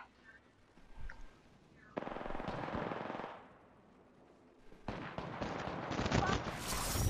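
Bursts of rapid automatic gunfire in Apex Legends, a dense rattling volley around two to three seconds and another heavier stretch toward the end, with a brief quiet gap between and talk from players.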